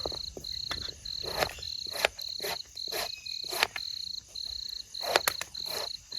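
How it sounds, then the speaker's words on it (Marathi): Crickets chirp steadily at night outdoors near tomato plants in cold weather, a high, evenly pulsed trill running throughout, with louder clicking insect or frog calls bursting in rhythmically every half second or so, close and without any talking. "इकडं पाखर ओरडत आहेत म्हणजे ते रातकिडा बोलतात"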